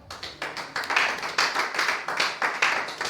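A church congregation claps in a steady, even rhythm, loud and close, with no talking over it.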